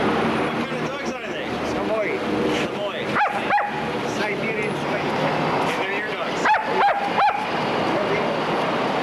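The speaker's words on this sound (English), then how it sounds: "Samoyeds are some of the most spirited but gentle and well-mannered dogs you can ever find." Samoyed dogs, big white dogs, give a few sharp barks in separate short bursts, near and fairly loud, over a steady bed of outdoor crowd noise and voices.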